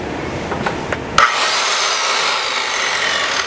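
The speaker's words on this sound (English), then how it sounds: "This here is a skill saw." A Craftsman circular skill saw, 2 1/2 horsepower, snaps on after a few light clicks and keeps up a loud, steady high whine with no voices.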